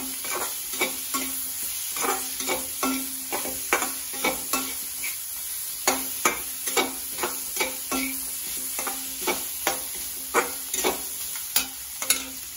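Small fish fry in a pan for Assamese khar, a soft steady sizzle broken by regular clattering stirs of a spatula, close and fairly quiet, with no voices.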